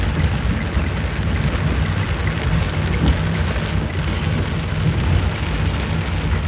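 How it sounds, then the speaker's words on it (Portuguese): Strong rain keeps falling hard in Varzelândia, Minas Gerais, while runoff streams along the ground; the downpour forms a constant, loud, close roar of drops and rushing water, unbroken for several seconds with nobody speaking. "Chuva que tá forte."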